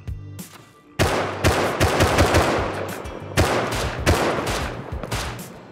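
Rapid gunfire in the video game Rust, loud bursts of close shots in two clusters, each opening with a sharp crack and followed by quick repeated reports.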